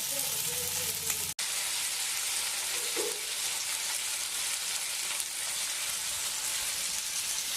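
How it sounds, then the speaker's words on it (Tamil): Onion and tomato sauté in a pan over a low flame for onion chutney, a steady broadband sizzle running throughout with a brief dropout early on and faint voices beneath. "நல்லா வதக்கணும் தக்காளியை புரிஞ்சு விட்டுக்கிட்டிங்கன்னா கொஞ்சம் ஈஸியாக இருக்கும்"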